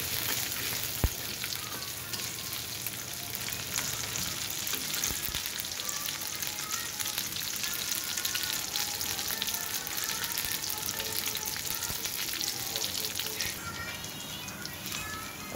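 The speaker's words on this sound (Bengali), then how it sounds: "যে পোলার চাউলটা দিয়ে দিলাম, এটা সুন্দর করে ভেজে নেব।" Polao rice fries in a pan with a dense, continuous crackling sizzle, steady and close throughout, with a single sharp tap near the start.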